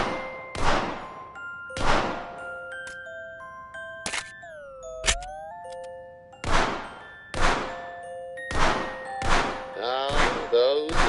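Shots striking targets in the VR shooting game The American Dream's target practice, a regular series of sharp thunks with ringing tones about every second or so, each clear and close, no talk.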